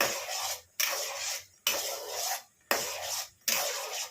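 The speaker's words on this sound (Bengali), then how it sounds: "এরকম নাড়াতে নাড়াতে বড়াটাকে ভেজে নিতে হবে" Curry-leaf pakoras are stirred in frying oil with a metal spatula, giving repeated rasping scrapes in a steady rhythm of about five strokes, each roughly half a second to a second long, loud and close with no talking.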